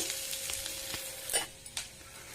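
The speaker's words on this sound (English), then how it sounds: "Now mix cashews also in this." Cashews and curry leaves stirred in a hot oiled pan while cooking flattened rice, giving a soft steady sizzle broken by a few scraping spoon strokes close by.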